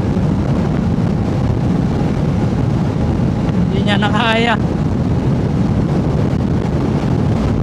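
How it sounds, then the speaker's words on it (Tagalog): Strong wind roars steadily across the microphone during a long-distance motorcycle ride in Ilocos with the throttle wide open, a loud, constant buffeting rush with a brief spoken phrase partway through. "Lakas kasi rin ng hangin"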